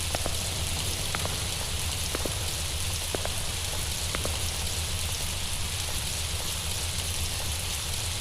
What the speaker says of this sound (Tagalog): Ang pangit naman ng panahon ngayon, ang araw-araw tapos naulan.